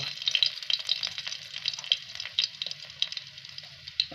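Garlic and chilli frying in oil in a tribal village kitchen, a steady close sizzle with crackling pops and occasional stirring scrapes, no voices.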